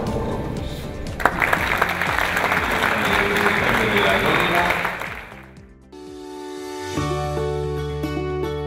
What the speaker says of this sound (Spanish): lo que pido es un gran aplauso para todos ellos